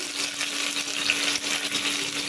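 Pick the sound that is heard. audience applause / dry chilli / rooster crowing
dry chilli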